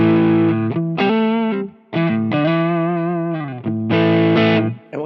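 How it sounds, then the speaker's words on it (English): Distorted electric guitar runs through a Friedman IR-J preamp pedal with its tone control turned down for a darker sound, playing loud sustained riffs and bends with brief gaps between phrases. "I can turn the tone down and it'll darken it a little."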